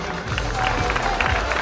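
Audience at a race awards ceremony gives applause, a moderate wash of clapping and crowd noise with some voices mixed in.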